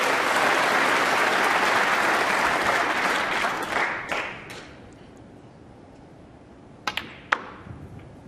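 Snooker crowd at the 2012 UK Masters applauding a century break, with sustained loud clapping that fades over several seconds, followed by a few sharp, isolated clicks in the quiet.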